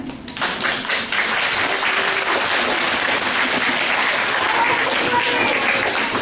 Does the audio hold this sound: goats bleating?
no